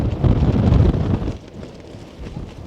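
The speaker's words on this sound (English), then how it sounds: "it is fairly windy" Gusty wind buffets the microphone on the summit of Hindscarth in the Lake District, loud and rumbling at first, then easing to a steadier, softer roar.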